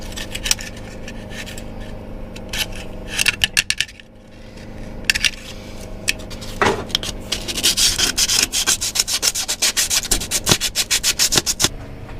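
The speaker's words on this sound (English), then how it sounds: "Razor blade. Trying to scrape that mess off." A razor blade scrapes a torn old gasket off a car part from a long-stored Cadillac Coupe Deville barn find, with repeated short rasping strokes that speed into a rapid, fairly loud scraping run in the second half.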